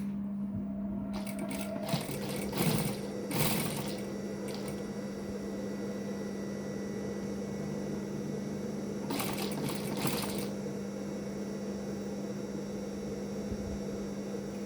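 Sewing machine stitching lace trim onto a prayer garment, short close bursts of rapid needle chatter over a constant electrical hum, with long stretches of hum alone and no talk.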